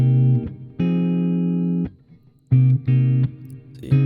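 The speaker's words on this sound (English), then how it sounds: "See, quite a bit of reverb on that one." Sustained guitar notes ring out with a long, washy reverb tail, decaying into silence between phrases before several more plucked notes bloom and linger.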